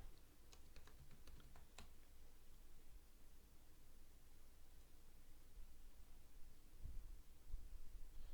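Quiet typing on a computer keyboard, a quick burst of light clicking keystrokes near the start followed by faint hiss and a few soft taps later.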